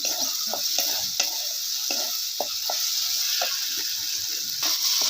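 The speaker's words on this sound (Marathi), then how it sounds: "एक दोन मिनटं का नाही असंच हलवत हलवत राहायचं चांगला होत होतोपर्यंत" Onion, tomato, garlic and coconut paste sizzles steadily in a pan while a spoon stirs it, leaving soft scraping strokes at an irregular rhythm over a constant frying hiss, close by with no talk.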